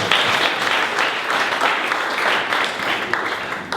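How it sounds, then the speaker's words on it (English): Audience applause at a startup presentation event, a steady, full round of clapping from many hands, moderately loud and sustained without talk. "please give a warm round of applause for Andrew with Newtown"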